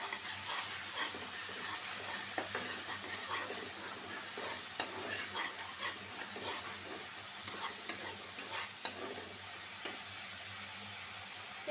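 Spice masala sautéing in a pan for a hilsa and ash gourd curry, a constant close sizzle and hiss with scattered clinks and scrapes of stirring throughout.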